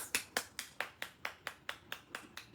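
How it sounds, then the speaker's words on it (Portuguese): A single person claps slowly and evenly, about eleven crisp claps in a steady rhythm, close and fairly quiet during a networking talk. "Aplausos!"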